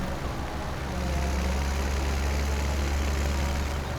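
A tractor's PTO-driven feed mixer runs in Farming Simulator 2017, giving a steady low engine drone and rumble that holds evenly throughout with no voices.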